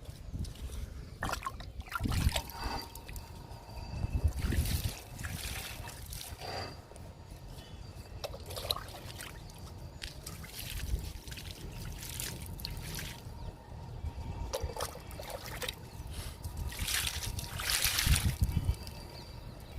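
Water trickles and splashes in short bursts, close by, poured onto soil in pots of rain lilies, with quiet pauses between pours.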